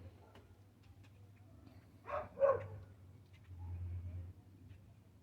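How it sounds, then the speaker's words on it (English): A neighbour's dog barks twice in quick succession from a distance, faint and brief, over a quiet low hum indoors. "That's the neighbor barking, huh, puppy?"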